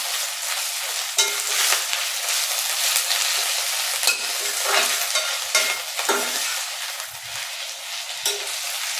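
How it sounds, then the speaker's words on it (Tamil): Spinach being stirred and mixed in a frying pan, with a steady close sizzle broken by repeated scraping strokes of a spatula against the pan. "ஆட் பண்ணி நல்லா மிக்ஸ் பண்ணிக்கலாம்."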